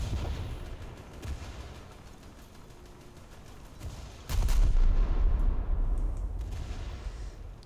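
Naval ship guns firing in a video game, a rumbling background of cannon fire with one heavy boom near the middle followed by a loud, sustained low roar that slowly fades.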